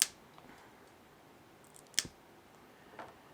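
Sharp little snips of a blade cutting away plastic from a 1/200 RMS Titanic model kit, three quiet isolated clicks spaced about a second apart in a hushed room.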